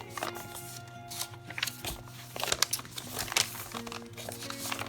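Sheets of tea-stained A4 paper being handled up close, crinkling and rustling in a series of uneven bursts with faint low hum beneath.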